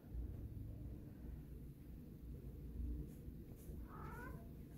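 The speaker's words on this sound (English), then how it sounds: "And we have some kitties up here." A faint, short meow near the end over a low rumbling background hum, quiet and somewhat distant.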